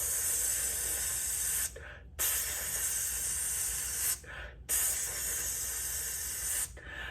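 A voiced "tss" sizzle imitation, held steadily for about two seconds, repeated three times with short silent breaks between.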